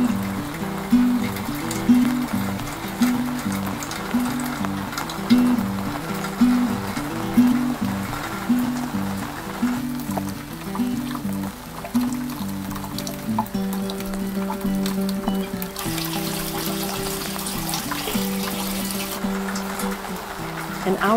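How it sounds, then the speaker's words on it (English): Heavy rain falling on a garden makes a dense, steady hiss and patter, with a rhythmic background pulse and no speech. "Then the big rain came."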